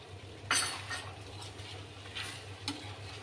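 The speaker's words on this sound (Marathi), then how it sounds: "ते कॉर्नफ्लॉवर असं ना पूर्ण असं छान ढवळून घ्यायचं" Cornflour being stirred into chicken chilli gravy in a pan, with a steady low simmer and a few sharp spoon scrapes and clinks against the metal, close up and with no talking.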